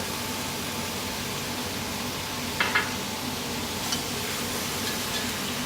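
Beef carbonnade stirred in a pan, a continuous soft sizzle and hiss with a few brief scraping strokes of the utensil, close by and with no voices.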